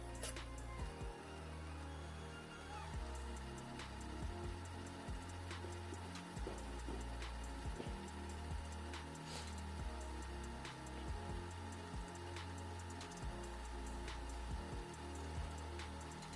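A Samsung SVR-40 VHS video recorder rewinds a tape slowly, giving a steady mechanical whir with a low pulsing motor hum and faint ticks, continuous and close, with no talk.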